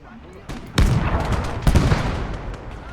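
Heavy tank cannon fire in a World War II Fall of France battle game, two booming shots with long rumbling tails over steady battlefield ambience.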